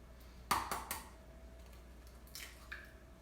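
An egg is cracked into a small 1-cup prep bowl while mini banana breads are being made: one sharp close crack, then a few soft wet drips and splats, quiet with no talking.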